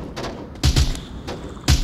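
Gunfire in the Onward VR shooter game: a few heavy, close shots with deep thumps, a pair in quick succession followed by another after a pause, with fainter distant shots in between.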